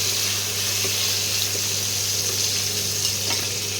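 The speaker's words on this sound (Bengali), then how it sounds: "এবার এগুলো একটু ভাজা ভাজা করতে হবে।" Chicken sizzles in a pan with ginger, onion and garlic, a steady close hiss that stays constant over a faint low hum.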